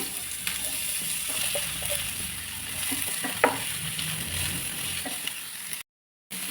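Sliced onions dropped into hot ghee with fennel seeds, a steady moderate sizzle with a few sharper crackles and a short silent gap near the end, no talking.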